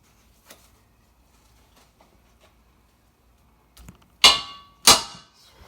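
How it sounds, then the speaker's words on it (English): After a few faint taps, two sharp, ringing hammer blows strike a metal long-tube exhaust header on a 1967 Chevelle big-block Chevy, loud and close. "Give it a little hit with the hammer in the right spot"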